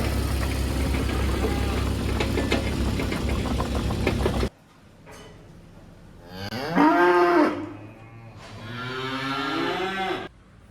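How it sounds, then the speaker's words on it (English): Cattle on a farm low and moo loudly at feeding time in a barn feeding passage, two long calls following a stretch of steady engine-like rumble. "Right, so we just saw the cows and feeding the cows"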